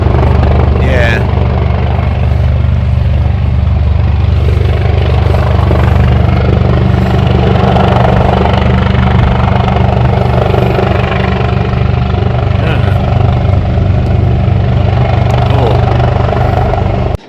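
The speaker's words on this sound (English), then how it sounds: "we saw this massive helicopter with lights appearing in the distance" A loud, steady coastguard helicopter rotor drone fills the whole stretch, with a constant low throb and people talking faintly underneath, at a wild campsite on the Isle of Wight at night.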